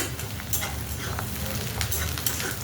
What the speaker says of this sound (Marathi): कांदा छान असा तळायला लागलेला आहे आपला.